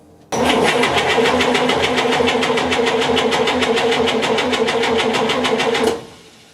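The starter cranks the engine of a 1958 GMC Apache pickup during a compression test, a loud rapid chugging rhythm that lasts about five and a half seconds and then stops abruptly.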